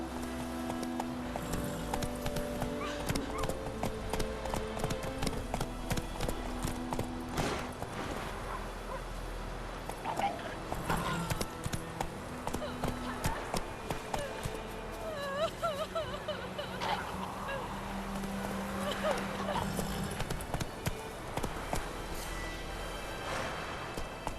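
Hooves of the horse Roach clip-clop in a fast, steady rhythm in The Witcher 3, running continuously over game music and ambient effects, with no talking.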